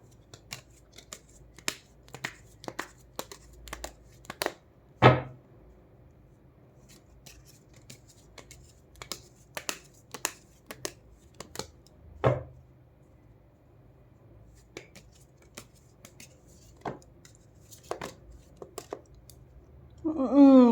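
Tarot cards shuffle with sharp intermittent clicks and flicks, a few louder slaps as cards fall at intervals, close and fairly quiet throughout.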